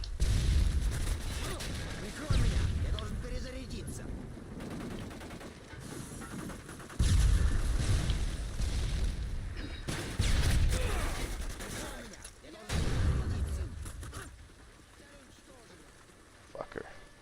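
Bursts of ACR rifle fire and grenade launcher blasts from a Modern Warfare 2 match, loud volleys alternating with quieter stretches, while a player talks over the action.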